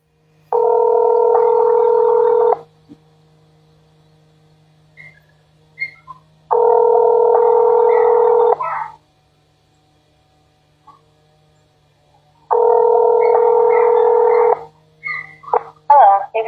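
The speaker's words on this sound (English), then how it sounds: "Wait while I transfer your call." Telephone call transfer on a court office phone line: three identical steady tones, each about two seconds long, repeat at even intervals over a faint hum, with quiet clicks between them.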